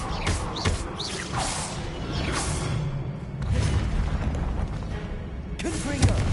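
The Expelliarmus spell cast in Hogwarts Legacy lands as a loud rushing whoosh with deep rumbling booms and mechanical clatter. A voice speaks briefly over the effect.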